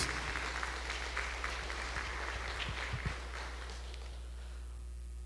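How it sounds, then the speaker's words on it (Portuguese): Congregation clapping during a church service, a dense diffuse patter that holds steady for about three seconds and then fades away, leaving a quiet room with a low hum. "dê uma salva de palmas a essa palavra de Deus"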